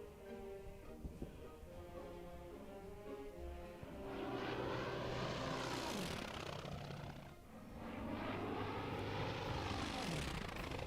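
Fighter aircraft in the World War II strategy game Order of Battle drone with propeller engines, fading in softly, then swelling into two loud passing roars; faint overall with no talking.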